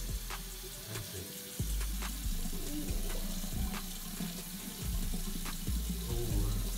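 Tap water running into a sink while someone rinses off a black charcoal face mask: a steady, close splashing stream with uneven surges and gurgles, fairly loud, with no talk over it.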